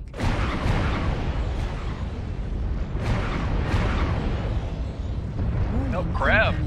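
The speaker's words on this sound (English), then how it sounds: "Artillery strike." Artillery strike in MechWarrior Online, a dense run of heavy booming blasts and rumbling impacts that rolls on steadily throughout, with voices chattering faintly over the battle noise.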